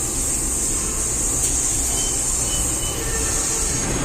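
Steady rumble and hiss from inside an economy-class KA Airlangga passenger coach running on the rails, a constant close drone of wheels and car noise with a high whine above it and no talk.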